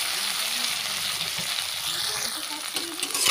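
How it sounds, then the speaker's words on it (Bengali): Chopped tomato frying in a pan for a Bengali katla fish curry makes a dense, steady close sizzle with faint stirring scrapes underneath. "এবারে টমেটোটা নরম হওয়া পর্যন্ত একটু ভেজে নেব।"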